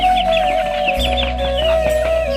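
Chickens, including Deshi Tiger and Faomi breeds, cluck and chatter in the background over a constant mechanical hum, the calls scattered and moderately faint.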